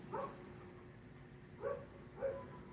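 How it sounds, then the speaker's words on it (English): A dog gives three short barks at a moderate distance, one early and two spaced close together near the end, over a low background hum. "You hear the dog barking"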